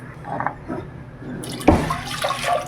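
Soaked moong dal is rinsed by hand in water, with soft swishing at first and then a louder burst of splashing and running water near the end.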